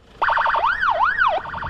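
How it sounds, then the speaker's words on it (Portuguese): A SAMU ambulance siren wails loudly nearby as it arrives at a shooting scene in a Brazilian community, shifting from rapid yelp cycles to slower rising-and-falling sweeps and back. "Uma viatura do SAMU chegando aqui"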